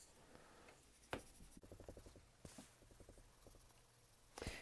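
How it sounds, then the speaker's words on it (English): Pencil scribbling on the back of a paper woodburning pattern: quick bursts of scratchy back-and-forth strokes, close and fairly quiet, broken by a few louder knocks and short pauses, with no one speaking. "scribble all over the back side so you can see where that cactus is"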